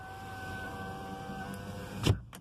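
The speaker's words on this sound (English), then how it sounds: "Let's shut the window." An electric front window on a 2015 Kia Picanto 1.0 whirs upward with a steady motor hum for about two seconds, ending in a soft thud as it seals shut, close and fairly quiet.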